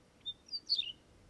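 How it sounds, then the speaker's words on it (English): Wedgebill calls in the Strzelecki Desert of Australia, three short thin whistled chirps rising and falling in quick succession, fairly faint and alone against quiet open air. "Australia contains two wedgebill species, the chirruping and the chiming."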